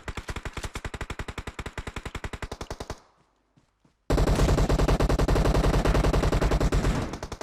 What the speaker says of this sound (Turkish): Arkadan da sıkıyorlar.